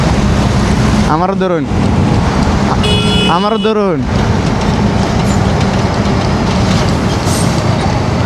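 A motorbike cruising on a highway with a rider and a passenger, roaring with steady loud wind and engine noise throughout, while two passing vehicles sweep by with brief rising-and-falling whooshes and people talk over the ride.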